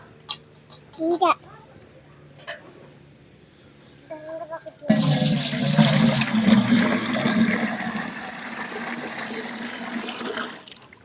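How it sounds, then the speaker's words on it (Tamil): Water suddenly gushes in partway through and keeps pouring steadily, loud and close, after a few quiet knocks and clinks. "தண்ணி ஊற்றிக்கலாம்"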